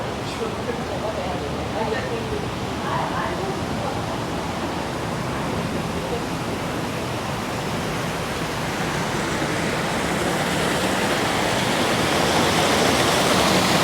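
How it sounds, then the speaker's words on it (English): A waterfall roars continuously with broadband rushing water, steady and fairly loud, growing slightly stronger as it comes closer toward the end. "there's the waterfall."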